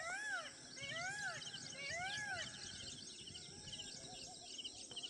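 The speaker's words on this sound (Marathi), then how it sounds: "पाहिलंच मोरांचा आवाज." Peacocks call in the distance, several rising and falling wailing cries repeated in quick succession, faint against an open outdoor background with softer bird chirps.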